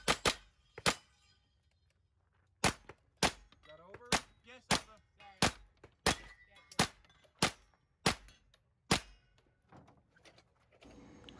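Pistol caliber carbine shots ring out at a shooting competition, about fifteen sharp reports in a steady rhythm with short pauses, some ringing off steel targets, fairly distant and crisp, with faint talk between.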